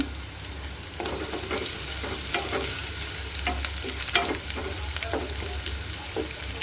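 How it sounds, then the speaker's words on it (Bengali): Chopped garlic sizzling in hot oil as a tempering poured over cooked lentil dal, a steady close frying hiss with stirring clicks and scrapes throughout, no talking. "ডালটা বাগার দিলাম"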